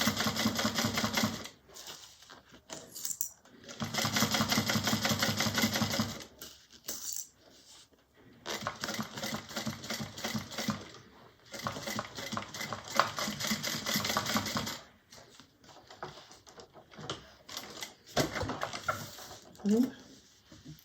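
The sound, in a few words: sewing machine back-stitching a bag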